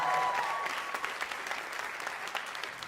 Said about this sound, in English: it's cool you applauded at home